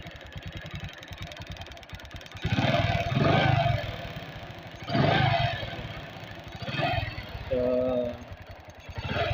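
A Bajaj motorcycle engine fitted with a Yamaha regulator runs steadily at idle nearby, with a few louder revving swells and some clattering, while someone talks over it.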